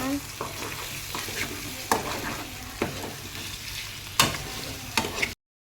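Beaten egg with turmeric sizzles in a pan for egg curry while a spoon stirs it with a few sharp scrapes and clinks over a continuous hiss; no talking.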